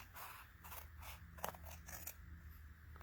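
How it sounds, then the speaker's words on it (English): Big scissors snip and crunch through stiff cardstock in a quick series of close cuts, with light paper rustling between them. "I'm going to bring in my big scissors and we're just going to trim off the lemon lolly"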